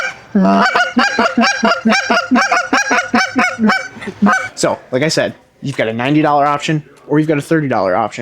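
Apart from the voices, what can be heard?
GK Calls Rumbler goose call in Delrin being blown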